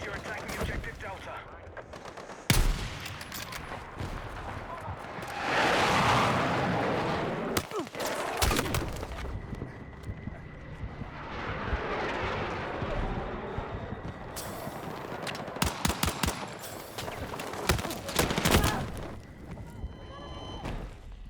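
Rapid bursts of gunfire from a multiplayer shooter game, with repeated volleys and sharp single shots scattered through the match over a bed of background game noise and voices.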